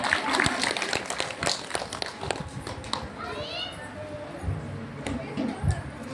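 Scattered hand claps from an audience at a Marathi devotional gathering welcoming the mother goddess, irregular and moderately loud, mixed with children's voices and chatter.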